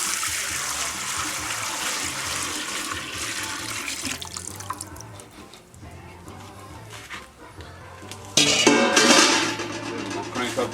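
Cooking oil is poured back into a pot after frying pork cracklin', a steady close liquid splashing and rushing that thins out midway, then surges again louder near the end.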